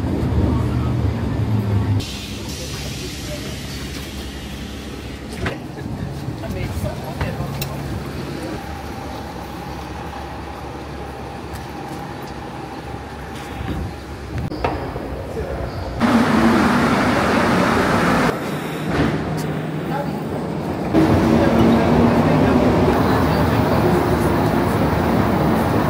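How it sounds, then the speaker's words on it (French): A Montreal metro train rumbles steadily throughout, with louder surges and shifts in tone as it runs and brakes, and a whining pitch in the middle. "je prends le métro"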